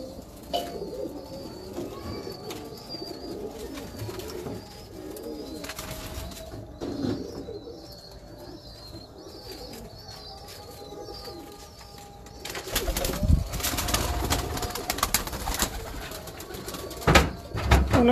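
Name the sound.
pigeons cooing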